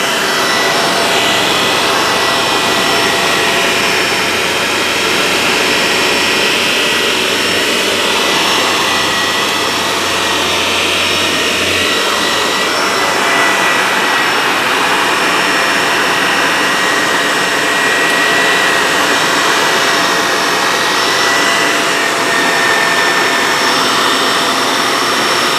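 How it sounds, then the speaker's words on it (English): A Shark Navigator Lift Away Zero M upright vacuum cleaner runs loud and close with a continuous high-airflow roar and steady whine, with no voices, and its pitch shifts slightly as it moves across the floor. "You can see it sucking in some of the dirt before it gets to it because of the high airflow and the airflow channels in the front of the cleaner head."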